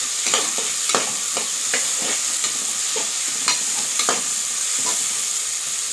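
Steady sizzle of onions frying in a pan for tomato kadayal, with repeated scraping clinks of a spoon stirring them at irregular intervals.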